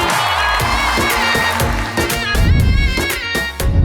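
A studio audience at a TV show applauds and cheers as two singers make their entrance: loud, dense clapping and shouts over music, swelling stronger toward the end.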